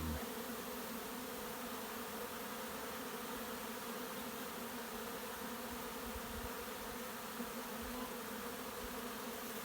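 A swarm of honey bees buzzes around a hive outdoors, a dense, continuous droning hum that stays steady and evenly loud throughout.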